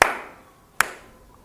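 Two sharp hand claps ring out alone, roughly eight tenths of a second apart, each loud and crisp with a short fading reverberant tail in a quiet room.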